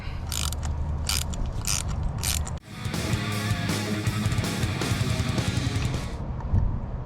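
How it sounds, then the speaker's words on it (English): A ratchet wrench loosens spark plugs on a 2003-2008 Toyota Corolla, first in a few quick clicking bursts, then a sharp crack followed by a long, rapid, continuous ratcheting whir, close and clear without talk. "grab your wrench and crack it loose, and you'll be able to pull them right out"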